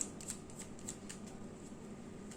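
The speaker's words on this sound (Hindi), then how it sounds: "जब तक मैं कार्ड शफल करती हूँ" Tarot cards being shuffled during a Hindi tarot reading, giving soft, repeated riffling and light slaps in a steady rhythm, close and fairly quiet with a faint background hum.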